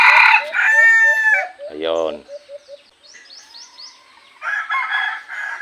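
Red junglefowl roosters crow several times close by, with shrill rising and falling calls and short clucks in between, and someone speaks briefly between the crows.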